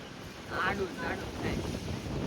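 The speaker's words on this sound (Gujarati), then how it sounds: "ઠંડો પવન આવે છે" A steady rush of cold storm wind buffets the microphone, rising and falling in gusts, with muffled voices faintly mixed in.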